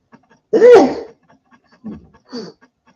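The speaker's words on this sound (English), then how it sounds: "I'm gonna sneeze." A single sharp sneeze bursts out close to the microphone, followed by two short, softer throat sounds or sniffs a moment later, with no speech.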